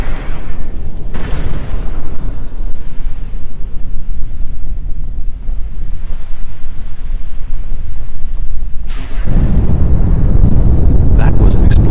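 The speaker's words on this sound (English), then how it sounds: "That was an explosion of sufficient magnitude to cause a breach." An explosion causing a hull breach in the space game Star Trek Online: a heavy boom with a rumbling blast that bursts out suddenly near the end, after a stretch of low rushing noise.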